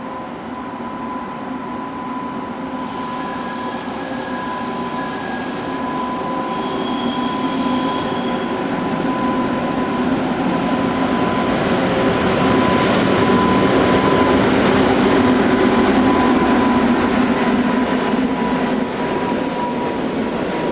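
An ÖBB class 1110 electric locomotive stands at a station in the Alpine pass area near Landeck, giving off a steady loud hum with tonal whines that shift and swell slightly, near and continuous, with no voices.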